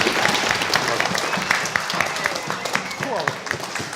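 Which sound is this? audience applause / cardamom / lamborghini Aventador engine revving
audience applause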